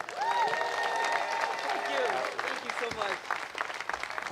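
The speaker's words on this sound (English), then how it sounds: "Will you all clap it up for Miss Renee Brown?" Crowd at an outdoor statue unveiling for Dawn Staley claps for Renee Brown, a dense wash of applause mixed with cheering and a few whoops, gradually thinning toward the end.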